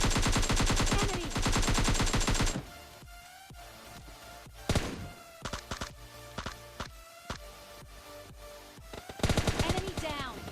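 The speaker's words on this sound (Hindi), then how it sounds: "मेरे टीममेट के ऊपर कोई घर के तरफ से फायर करता है" Gunfire in a battle royale video game: a dense, loud automatic burst opens the clip, followed by scattered single shots and thuds, then another heavy rapid volley near the end.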